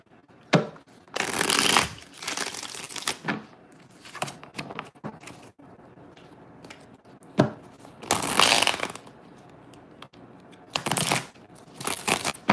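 Tarot cards being shuffled in repeated riffling bursts, close up, with short pauses between rounds and no talking.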